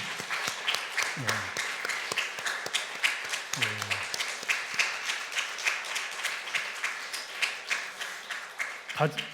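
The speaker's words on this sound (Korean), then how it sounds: "우리 환영 격려의 박수, 환영의 박수." A church congregation claps in welcome during a Sunday service, a steady rhythmic patter of many hands heard under ongoing talk.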